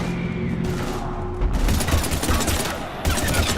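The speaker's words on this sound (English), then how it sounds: "we're taking heavy fire" Heavy, dense gunfire crackles and booms in a Mass Effect 3 combat scene, rapid overlapping shots that grow louder partway through, with only a trace of voice.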